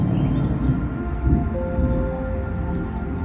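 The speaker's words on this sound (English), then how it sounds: "you can clearly hear the rumble of an approaching storm." A deep, continuous rumble of thunder from an approaching storm rolls low and steady under a rain-like hiss, fairly loud and without any voices.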